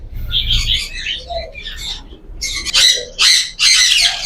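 Caged Fischer's lovebird breeder pairs in a bird shop in Multan give loud, harsh squawks in repeated bursts, with shrill chirps between them, close to the listener.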